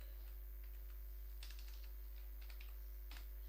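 Java code is typed on a computer keyboard in a few short, quiet bursts of light key clicks with pauses between them, over a steady low electrical hum.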